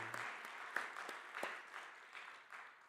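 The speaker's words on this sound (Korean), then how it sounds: "우리 오늘 주차위원들, 차량위원들 너무 고생했는데 우리 박수 한번 칩시다." A church congregation at a Sunday worship service claps for the parking volunteers, a faint, distant patter of hands with a few sharper individual claps standing out, fading slightly toward the end.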